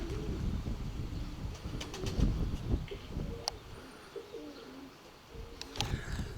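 Low, soft cooing of pigeons close by, repeated murmurs with a few light chirps and wing flutters mixed in.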